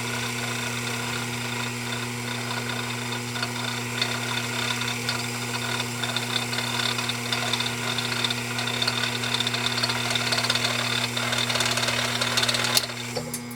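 A restored Pfaff 229 sewing machine runs steadily while winding a bobbin, a smooth motor hum with a constant mid-pitched whir and light mechanical clatter, gradually rising slightly in intensity toward the end.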